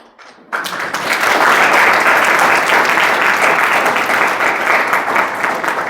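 Church congregation bursts into loud, sustained applause after a brief quiet moment, dense clapping filling the space evenly and holding steady to the end.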